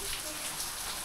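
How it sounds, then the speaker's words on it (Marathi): Heavy monsoon rain pours down outdoors during a Mumbai downpour, a steady dense hiss of drops hitting surfaces, constant and fairly loud throughout with no voices over it. "बाहेर बघू शकता मुसळधार पाऊस चालू आहे."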